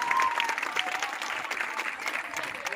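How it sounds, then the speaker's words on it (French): An audience claps for sixth-grade pupils at a school library inauguration, giving a steady, moderately loud round of applause with a few faint voices in the crowd. "On acclame pour les élèves 6e."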